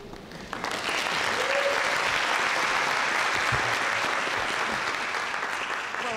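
A town meeting audience in North Reading gives sustained applause, a dense, even wash of clapping lasting several seconds with no talking over it.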